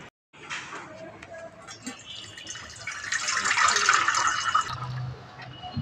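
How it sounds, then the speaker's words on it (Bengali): Mangoes are rinsed under running water in a kitchen, a close splashing and trickling that swells in the middle and fades near the end, with the fruit being handled under the flow. "আমগুলো ভালো করে ধুয়ে নিয়েছি"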